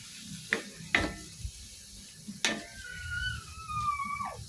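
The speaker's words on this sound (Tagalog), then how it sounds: "Haluin natin." String beans sizzle in a pan as adobo with a splash of soy sauce, with a few sharp clacks of a spoon stirring against the metal over a low, steady frying hiss.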